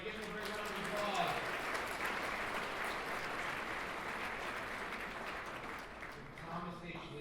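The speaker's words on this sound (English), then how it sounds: "Give him a big round of applause." A gala audience gives a round of applause, a broad, steady patter of many hands heard at some distance, with a voice talking over it near the start and again toward the end.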